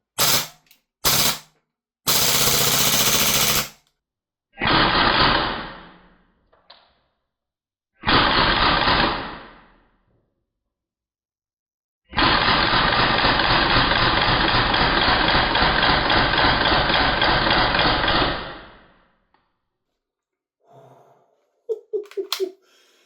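A Umarex VFC G36C V2 gas blowback airsoft rifle fires several loud, sharp bursts of varying length, the longest running about seven seconds, with near silence between them and a brief rattle at the end.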